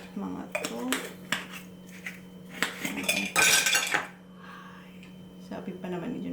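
Dishes and utensils clattering as they are cleared away in a home kitchen, a string of clinks and knocks with one louder burst of rattling midway, over a steady low hum and faint voices.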